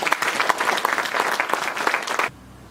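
An audience at a university ceremony for an IAEA African summer school bursts into dense, lively applause that stops abruptly, leaving near silence.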